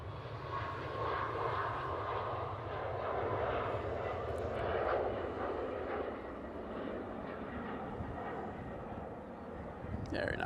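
A Ryanair airliner roars at Manchester Airport in a steady, broad engine rumble that fills the whole stretch at a moderate distance, with faint voices underneath.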